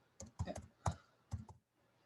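A computer keyboard is typed on at close range: a handful of distinct key presses in uneven clusters with short pauses between them, ending in silence, and no talk.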